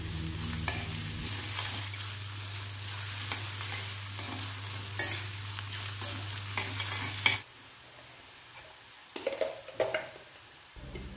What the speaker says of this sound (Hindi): दो मिनट के लिए हाई फ्लेम पर हम इसे सौटे करेंगे क्योंकि सब्जियों को हमें क्रंची रखना है